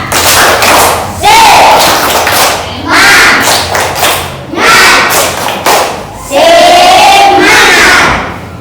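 Schoolchildren in a primary classroom shout the rhythmic 'tepuk semangat' clapping chant in unison, loud bursts of voices mixed with claps coming in several repeated phrases separated by brief pauses.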